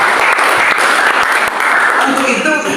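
A church congregation at a praise-and-worship service in an apartment bursts into loud, close applause, a thick burst of clapping with some individual claps standing out and voices murmuring under it.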